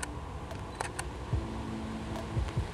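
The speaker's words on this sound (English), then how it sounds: "fully depress the shutter, then let go and fully depress it again" A camera shutter clicks twice in quick succession during a handheld focus-stack shot, two faint mechanical snaps heard close over a quiet room hiss with no talk.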